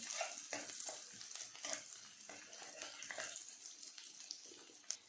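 Onion sautéing in a pan for restaurant-style tomato soup, with a steady soft sizzle and repeated scraping stir strokes close by, fairly quiet and without talk.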